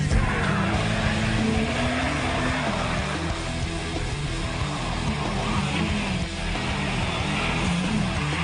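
New WRC rally cars drive hard, with a loud, continuous engine roar that rises and falls in pitch as they accelerate, mixed with tyre and gravel noise across the whole stretch.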